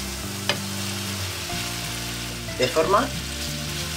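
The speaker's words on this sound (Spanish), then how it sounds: "He quitado la piel a la morcilla, la he troceado y la pongo con la manzana." Chopped blood sausage and apple sizzle steadily in a hot pan, a continuous frying hiss with a few scraping stirs and clinks near the end, while a voice speaks briefly over it.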